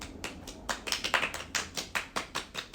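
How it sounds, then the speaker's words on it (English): A small group claps in a sparse, uneven rhythm, each clap sharp and distinct, rather than a full roaring applause, close by with no talking. "and then applause"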